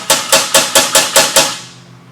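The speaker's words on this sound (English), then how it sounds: "You can just kind of make a little ding in the metal" A hammer taps a shutter's metal locking rod six times in an even, quick rhythm, each strike a close, sharp metallic ding with a short ringing decay, then quiet.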